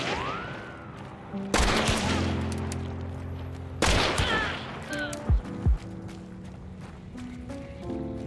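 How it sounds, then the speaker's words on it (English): Gunfire in the game Hunt: Showdown, a loud sharp shot at about 1.5 seconds and another near 3.8 seconds, each ringing out with a long echoing tail, followed by quieter thuds and game sounds. "I'm being shot at from somewhere"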